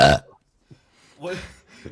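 A man lets out a loud, short burp at the start, then a few quieter throaty sounds and brief mumbling follow.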